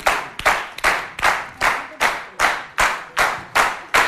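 Studio audience clapping in unison for a singer on a music show, with loud, close, evenly spaced rhythmic claps over about four seconds and no talk.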